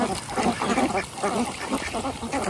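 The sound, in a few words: ducks quacking while eating small pond fish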